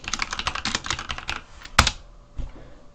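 A computer keyboard is typed on in a quick burst of close, crisp keystrokes as a name is entered, followed by a pause, one sharp louder key strike and then a last soft tap.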